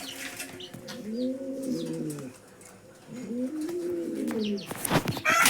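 Domestic pigeons, including a Lahori Sheraji, coo in a couple of deep rolling phrases close by, with soft wing flutters and light rustling at the end and no talking.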